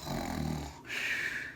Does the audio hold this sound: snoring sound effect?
yes